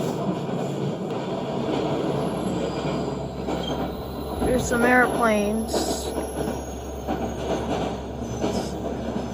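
A New York train running with its wheels squealing in a high, wavering screech over a continuous rumble of rail noise, loud and near, while a voice speaks briefly.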